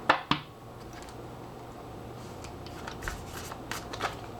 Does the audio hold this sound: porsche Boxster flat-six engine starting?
no